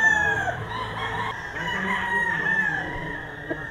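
A White Kelso gamecock rooster crows twice, with a strained, drawn-out call near the start and another just past the midpoint, set against a steady murmur of farmyard background noise.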